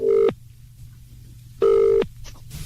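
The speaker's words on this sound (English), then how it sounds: "Let's see if we can get through to Crystal Italito at Tukley" Two long steady ringback tones from a telephone call to a radio competition winner, each burst followed by a pause, close and clear over a low background hum.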